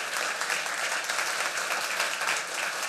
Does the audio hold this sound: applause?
yes